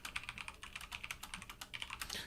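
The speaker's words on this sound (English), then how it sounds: "Sorry, I was typing something." Rapid, steady keystrokes on a computer keyboard, close and fairly quiet, clicking in a continuous run with brief pauses and no talk.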